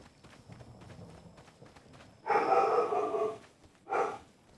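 A dog barks outside: one longer burst of barking followed by a shorter single bark, moderately loud over a quiet background, with no talking.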